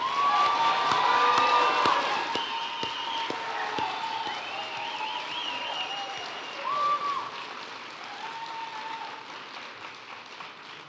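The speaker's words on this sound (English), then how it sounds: "you can give them an applause" Audience applause at a high school graduation ceremony for graduating students, a dense wash of clapping and some cheering that is loudest at first and then slowly fades, with faint voices mixed in.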